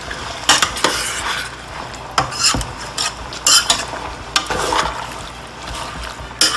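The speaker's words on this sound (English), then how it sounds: "Now we're just going to stir that up real good and let it come to a boil." Caribbean curry duck in seasoning juices stirred in a pot, a spoon scraping and clanking against the metal in uneven bursts, close and fairly loud with no voices.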